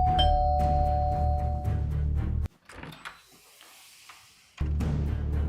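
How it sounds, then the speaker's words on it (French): A home doorbell chimes with a bright ding-dong tone over a low background hum at the start, then the room falls mostly quiet before the hum returns. "quand ma sonnette a sonné"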